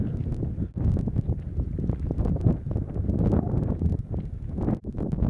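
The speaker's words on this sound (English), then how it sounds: "We have the wind coming on head" A strong headwind on the Camino de Santiago between Carrión de los Condes and Moratinos buffets the microphone with a continuous loud rumble and gusty roar, with brief lulls.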